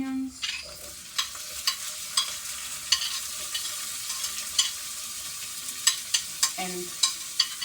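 Onions frying in a pan with carrots, a steady soft sizzle under a string of sharp utensil scrapes and taps as they are stirred, fairly close.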